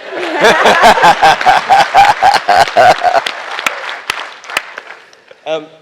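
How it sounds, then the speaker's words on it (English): Audience applause at a rugby award speech, a short burst of rhythmic clapping mixed with laughter and voices that fades out after a few seconds. "You may clap for that as well, please."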